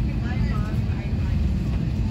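An airplane at Los Angeles airport: a loud, continuous roar of jet engines close by, steady throughout.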